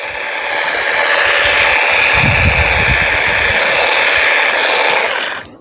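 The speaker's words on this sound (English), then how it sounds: "let's see how this does on this holly bush" A grass and hedge trimmer clips holly bush branches: a loud, steady motor whine runs close by for several seconds with a rougher cutting rustle through the middle, then winds down at the end.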